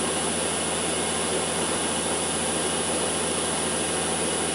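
LT230 transfer gearbox running on a test rig, a steady loud whining drone with a constant high tone, unchanging throughout and with no voices.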